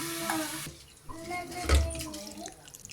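Coconut milk and water are poured into a pot for coconut rice, a soft splashing, running-liquid sound with a low thump partway through, close and moderately quiet.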